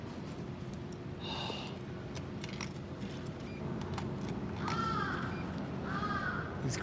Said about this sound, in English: These crows, man.